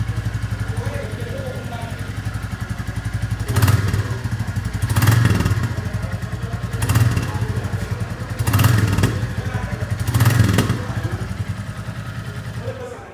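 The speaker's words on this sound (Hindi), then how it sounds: "ये जो थंब है इसको थोड़ा सा एक्सटेंड करता हूँ" A 2023 Royal Enfield Bullet 350 thumps at idle near the exhaust, and the throttle is blipped five times at regular intervals, each rev swelling louder before dropping back to the steady beat.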